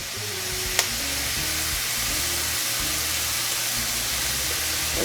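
Anchovy paste frying on a dry skillet for a shepherd's pie sauce gives a steady, close sizzle with soft hissing throughout, broken once by a brief sharp tick.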